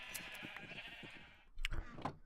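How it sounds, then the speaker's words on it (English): Dyed sheep in Minecraft giving short bleats, several quiet calls over a low game hum, with a louder pair of bleats near the end. "And trying to shear all the dyed sheep, I think."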